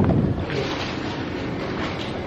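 Continuous wind rushes past the microphone, a broad steady hiss with a stronger gust at the very start.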